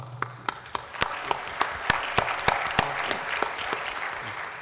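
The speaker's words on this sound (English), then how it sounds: "I'd just like to call this room to give you guys a big round of applause" Seminar attendees at a fuel cell conference give a round of applause, a steady patter of many hands with a few loud individual claps standing out, continuous and close throughout.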